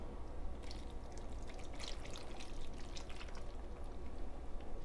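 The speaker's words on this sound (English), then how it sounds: "Now I'm just going to pour it over the top." Dressing poured over a bean salad with Kalamata olives and feta, a steady close wet trickle and splatter lasting several seconds with no talk.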